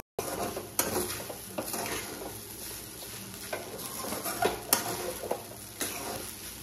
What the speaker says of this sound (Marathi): छान परतून सारखं हलवत राहा